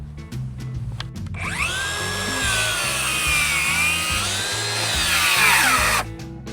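A cordless circular saw, DeWALT DCS590 or Milwaukee 2834, whines loudly and steadily for several seconds, its pitch dipping and rising under load as it cuts, then spins down abruptly.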